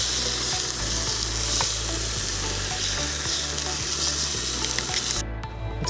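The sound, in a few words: sausages frying on a cooktop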